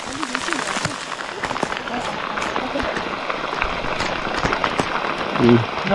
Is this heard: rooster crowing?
no